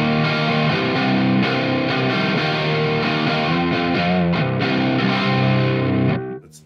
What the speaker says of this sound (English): same C standard tuning guitar into the driven channel, which sounds like this.